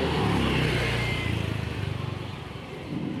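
A motorcycle engine idles while warming up during a carburetor floater repair and tune-up, a steady low rumble with rapid, even pulsing that eases slightly in loudness, with no talking.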